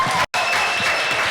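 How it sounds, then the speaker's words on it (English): Festival audience at an African Day lifestyle celebration bursts into loud, sustained applause and cheering, broken only by a brief dropout near the start. "Give them a round of applause."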